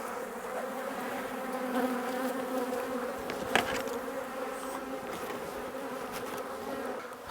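Honeybees from a nuc being moved between boxes during a hive transfer fill the air with a dense, continuous buzzing swarm drone, close and steady, with a brief sharp knock partway through.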